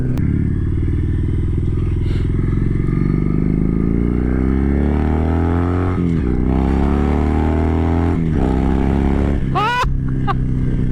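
A 2023 Kawasaki Vulcan Vaquero cruiser motorcycle's deep engine rumble builds as it accelerates, loud and close, with pitch rising through gear changes and a brief sharp scrape near the end.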